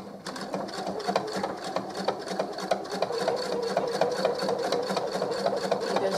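Sewing machine stitching thick fabric coasters, running close in a steady rapid mechanical chatter with a fast needle rhythm and no pause across the corners.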